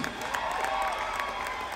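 Festival crowd at Haim's Ohana Festival set in Dana Point applauds and cheers in a brief steady burst of clapping and voices, fairly loud and continuous.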